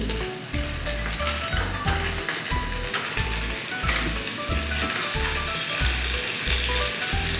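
Cumin seeds and green chilies crackle and sizzle steadily in hot oil in a pan, a dense continuous frying hiss with a thumping stir rhythm underneath, close and alone with no talk.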